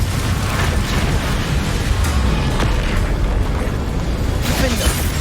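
Confringo fire spell blasting in the video game Hogwarts Legacy, a dense, loud rumbling explosion with crackling bursts sustained throughout, mixed with heavy combat noise.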